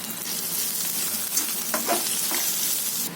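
Spices frying in a pan, cumin, salt and crushed red chilli for an aloo bhindi dish, give a steady close sizzle while a spoon stirs with a few brief scraping accents.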